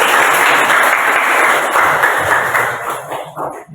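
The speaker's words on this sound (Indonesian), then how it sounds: "tepuk tangan untuk saya semuanya" A classroom of students claps together, a loud, dense patter of hands that holds steady and then thins out and fades near the end.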